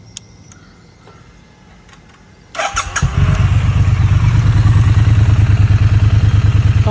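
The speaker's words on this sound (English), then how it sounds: "I'll just give you a quick exhaust note as well of the bike." Quiet ticking gives way to a stock 2022 Triumph Street motorcycle engine firing up, then a loud, steady, throaty exhaust rumble close by, pulsing rapidly.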